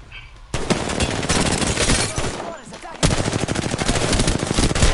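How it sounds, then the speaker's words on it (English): Enemy gunfire in a shooter video game arrives as loud, rapid automatic bursts that rattle almost continuously, pausing briefly before another close, dense volley. "The enemies are shooting at me."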